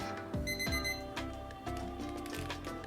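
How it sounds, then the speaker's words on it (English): A kitchen timer rings with a few sharp metallic bursts, followed by a quieter lingering chime, heard close by with no one speaking. "When the timer goes off"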